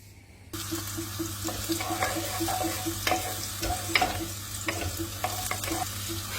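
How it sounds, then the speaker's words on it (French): Butternut squash and onion sizzle and crackle in a saucepan with occasional stirring scrapes, a steady hum running underneath. "on va le mettre dans la casserole et on va le faire revenir avec l'oignon"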